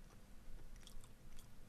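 A crunchy dried Peruvian bean snack is chewed up close, with sharp, irregular crunches over a quiet background.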